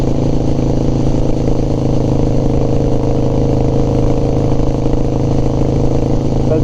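A Harley FXR engine running steadily after repair work, a loud, close, continuous rumble with an even low throb and no breaks.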